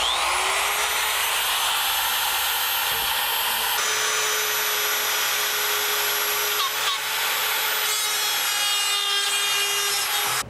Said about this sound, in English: I'd like to cut some drywall for you right now.